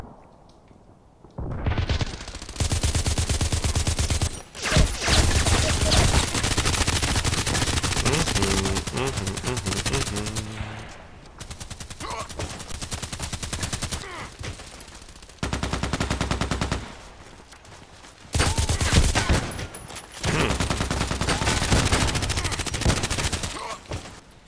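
Gunfire in the online shooter Contract Wars, long loud sustained bursts of rapid automatic shots separated by brief pauses, continuing across the whole stretch with a voice talking over it.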